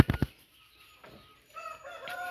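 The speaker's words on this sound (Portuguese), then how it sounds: "Os nossos frangos de granja estão aqui." Farm chickens in a rural poultry yard: a few loud close bird calls open, followed by quieter clucking and tonal fowl calls toward the end.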